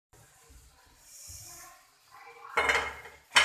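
A metal lid goes onto a pot of chicken paws cooking on a medium flame, giving a clattering clank followed by a second sharp knock, after a few soft handling sounds and a quiet hiss.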